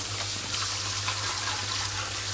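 Tap water runs in a continuous steady rush while shampoo is rinsed off a dog, with splashing and no voices.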